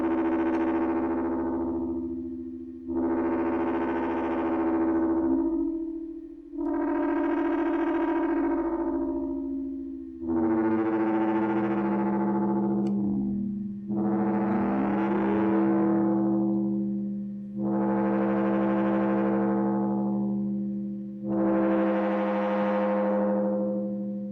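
Sustained, heavily processed synth drones from a Trisawrodrone swell and fade in long waves, about seven in a row, with distorted, echoing harmonic tones and no voices.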